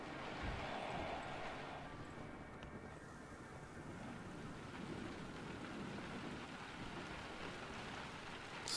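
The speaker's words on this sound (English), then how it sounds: "Starting to rain." Steady rain falling in the Generation Zero video game, a dense even hiss holding for the whole stretch at a fairly quiet level, with no voices over it.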